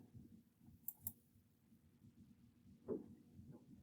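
Two quick, faint computer mouse clicks close together, followed later by a soft low thump, in a quiet room with no speech.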